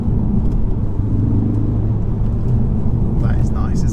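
A 2016 Ford Focus ST-3 diesel driving round a roundabout, a loud steady low engine and road rumble heard from inside the cabin while someone talks over it.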